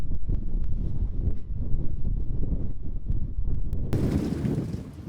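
Strong wind at sea buffets a fishing boat, a heavy, low, blustery roar pressing steadily against the microphone and rising in gusts, with no talking.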